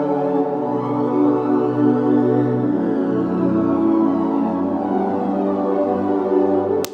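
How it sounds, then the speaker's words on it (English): A soft synthesizer pad carries a piano chord pattern as long, sustained, swelling chords that blend smoothly into one another, loud and continuous with no talking. "Next thing I did is I copied that pattern over to a pad and adjusted it slightly to fit the sound a bit better"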